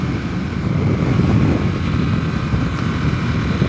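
A 2022 Harley-Davidson Nightster motorcycle held at full throttle in third gear at about 50 mph gives a steady, loud engine roar mixed with heavy wind rush, continuous and unbroken throughout.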